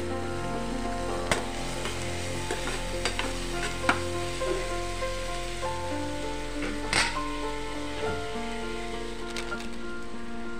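Onion and tomato fry in a pan for street-style egg fry, a busy, constant sizzle with scraping stir strokes and occasional clicks, while steady tones hum underneath.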